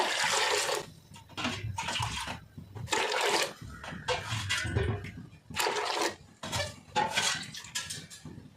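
Water poured in bursts into a pot while making tomato vadam in a kitchen, several separate splashy pours with short pauses and faint clinks of a cup between them, close and fairly quiet.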